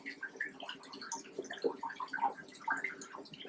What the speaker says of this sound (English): Filter's flowing great